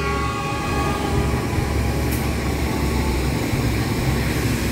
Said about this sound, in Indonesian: Cukup lumayan padat juga ya perjalanan kereta api di stasiun Jatinegara ini.